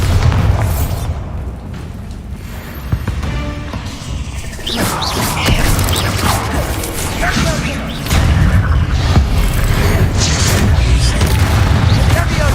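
Repeated Bombarda blast spells from Hogwarts Legacy gameplay: loud, close booming explosions with crashing debris and a dense, continuous roar that swells sharply near the end.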